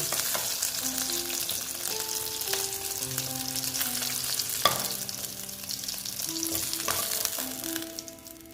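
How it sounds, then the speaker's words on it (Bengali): Fish, boal, fry slowly in hot oil with a continuous, even sizzle close up, and a single spatula knock partway through, with no voices. "এবার মাছটা আস্তে আস্তে ভাজা হোক"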